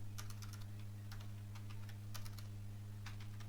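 Computer keyboard typing while entering a welcome page title in Adobe Illustrator: rapid clusters of clicky keystrokes in short bursts with pauses, close and clear over a steady low electrical hum.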